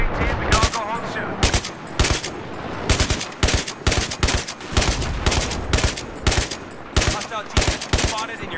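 Sustained machine gun fire from the Battlefield 3 video game: loud, dense bursts of rapid shots repeat steadily throughout, with no speech over them.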